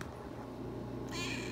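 A cat makes a faint short meow indoors, soft and close but quiet, with no talk.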